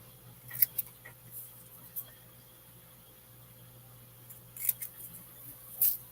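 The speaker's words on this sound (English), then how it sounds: "I'll just sit here and trim them up" Scissors snipping printed fishing rod labels, a scatter of faint, close crisp cuts in small clusters over a quiet room hum, with no talking.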